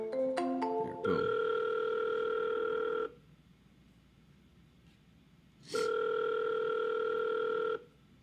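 Outgoing ring tone on a cold sales call: two long electronic ring bursts separated by a pause, heard through the phone line, preceded by a quick run of dialing beeps.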